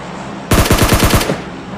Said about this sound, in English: I'm taking shots from behind